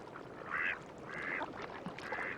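Mallard ducks on a marsh give three quacking bursts, each a raspy call lasting about a quarter second, spaced evenly apart, at moderate distance above a steady outdoor background.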